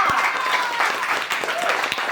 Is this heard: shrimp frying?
no